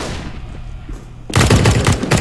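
Gunfire in the video game CS:GO, where a revolver pistol is in play: after a quieter stretch, a loud dense burst of rapid shots erupts and continues to the end, close and sharp.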